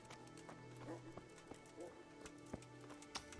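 Horse hooves clip-clopping in the medieval video game Kingdom Come: Deliverance, a loose run of sharp hoof strikes at moderate distance over soft ambient background, with occasional speech.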